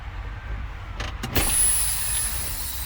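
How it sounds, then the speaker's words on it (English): A truck tractor and trailer releasing air brakes inside the cab during a CDL pre-trip inspection, a couple of quick clicks followed by a sharp, loud hiss of escaping air that settles into a steady rush. "You're going to release your tractor and your trailer brakes."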